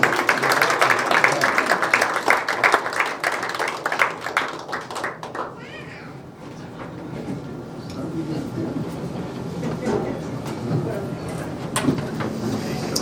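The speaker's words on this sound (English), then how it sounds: "give Matt Little a nice round of applause" Audience applause for a candidate at a county candidate forum, steady clapping from a room of people lasting several seconds, with a brief dip midway before picking back up.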